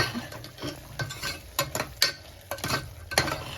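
Mixed vegetables for veg pulao sizzle in a pan while a spoon stirs them in irregular scraping bursts, close and fairly loud, with no voices.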